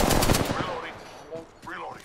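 Rapid bursts of automatic gunfire from a video game crack out in the opening half-second, then fade as a player's voice talks over quieter game sound, with a sharp shot returning at the end.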